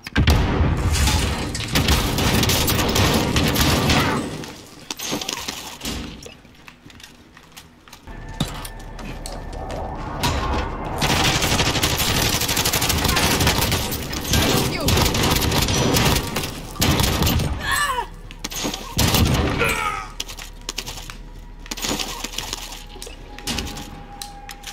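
Rapid Origin 12 shotgun blasts and Uzi bursts fire in dense, loud volleys through a Call of Duty match, with brief lulls between flurries and game announcer cues in the mix.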